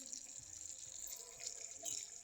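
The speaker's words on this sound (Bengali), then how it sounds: "এখন একটু ঝোল দিব" Broth poured into a thick, reduced curry as it cooks, a faint steady liquid trickle and sizzle with a brighter splash near the end.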